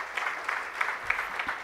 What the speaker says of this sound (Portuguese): Queria uma salva de palmas para ela.